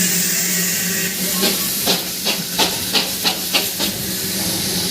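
A coal-fired steam engine of the Darjeeling toy train hisses steadily and loudly up close, with a run of rhythmic chuffs pulsing through the broad steam noise in the second half.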